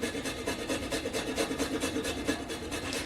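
A whole nutmeg is grated fresh, close up, in fast, even back-and-forth rasping strokes that repeat steadily throughout.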